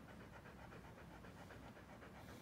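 A pet dog pants close by, a rapid, steady, breathy rhythm that fills the whole stretch without pause.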